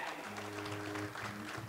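Audience at a 2012 Las Vegas live show applauding, a short burst of many hands clapping together with a low hum running underneath, fairly even in level throughout.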